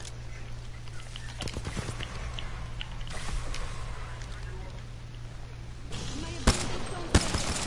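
Video game gunfire in bursts, a few sharp shots standing out over a steady background of game noise, with people talking over it.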